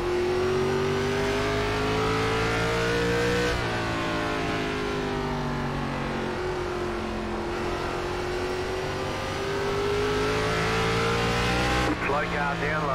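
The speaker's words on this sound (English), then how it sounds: "cars heading back out on track" Race cars on the Langley Speedway oval in iRacing during an ARCA Series race, engines droning and revving steadily as a pack circles the track, with pitch rising and falling across shifts, under occasional faint radio talk.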